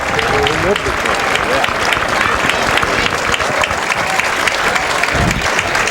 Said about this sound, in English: now listen to this crowd giving Michael a hand